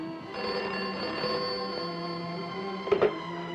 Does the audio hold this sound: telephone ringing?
yes